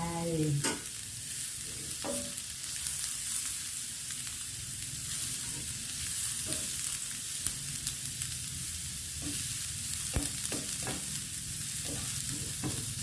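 Papaya stir-frying in a pan with garlic, for a papaya and egg dish: a steady broadband sizzle with scattered scraping clicks of the utensil. It runs continuous and close, with no talking.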